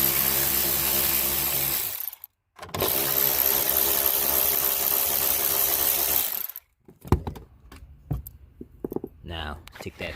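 Small 8 mm bolts being removed from a 2013–15 Nissan Altima tail light, with two long buzzing runs of a power driver followed by scattered clicks and clatters.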